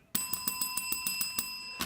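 A small hand bell rings in a quick run of about nine bright, metallic strikes, each chime overlapping the last, close and clear with no talking.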